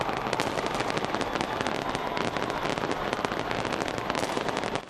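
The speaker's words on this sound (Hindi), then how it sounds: "ऑकलैंड शहर में स्काई टावर से आतिशबाजी का खूबसूरत मुजाहिरा पेश किया गया।" New Year 2021 fireworks launched from the Sky Tower in Auckland, New Zealand: a dense, continuous barrage of crackling bursts and pops, loud and unbroken throughout, with no clear voices.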